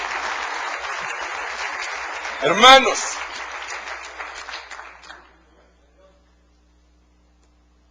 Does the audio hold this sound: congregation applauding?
yes